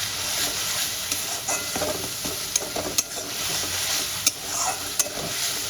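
Egg bhurji curry masala being stir-fried in a pan, a steady loud sizzle with scraping stirs and sharp utensil clinks against the pan throughout, no talking.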